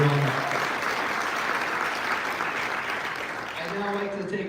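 Crowd applause for two team captains at a student racing team's 2024 car unveiling, a steady wash of clapping lasting several seconds, with a voice speaking briefly at the start and again at the end.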